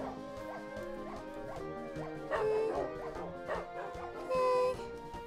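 Several dogs in the Minecraft game yip, whimper and bark in quick repeated bursts, close and fairly loud, with overlapping high whines and no talking.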